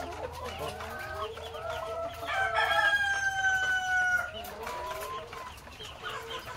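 A rooster crows once, a long drawn-out call in the middle, amid ongoing clucking from a flock of chickens nearby.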